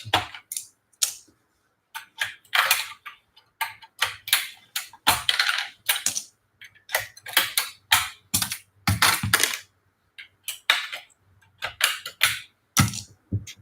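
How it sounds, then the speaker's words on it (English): Plastic keycaps snapping off an Apple Pro Keyboard one after another, a rapid irregular series of sharp close clicks and pops with brief pauses between bursts, no talking. "Ever seen one-handed keycap pulling?"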